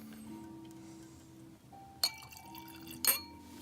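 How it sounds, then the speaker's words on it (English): Whisky from a Canadian Club Chronicles 41-year special edition bottle is poured into glasses, with a quiet liquid trickle and two sharp glass clinks near the end, close and alone. "So I'm gonna pour 4 glasses here."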